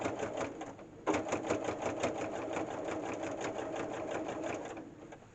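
A sewing machine stitches binding onto a quilt, running in a fast, steady mechanical rattle at close range. After a brief start it speeds up and holds an even rhythmic clatter for several seconds before easing off at the end.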